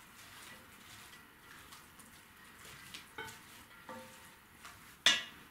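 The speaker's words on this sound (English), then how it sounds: "Then you're going to want to add in the rest of the olive oil and the rest of that white wine. Give it a little stir." Olive oil and white wine stirred in a pan, a faint quiet sizzle with a few soft scrapes and light clinks of the utensil against the pan, ending on one sharper knock.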